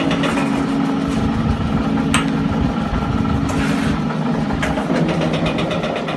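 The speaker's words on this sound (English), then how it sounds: "So that noise you hear is the oil pump." The oil pump of a Zocca 500 metal shaper runs with a steady mechanical drone and hum, close and continuous, while the clutch is disengaged and the machine otherwise sits idle.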